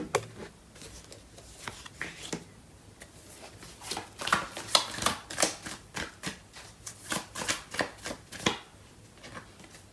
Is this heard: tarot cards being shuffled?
yes